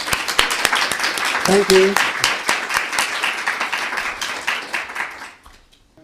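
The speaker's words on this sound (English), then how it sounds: "if we could all give a great kind of warm kind of clap" An audience at a museum lecture by a physicist gives warm applause: dense, steady clapping for about five seconds, with a brief spoken thanks over it, before it fades out.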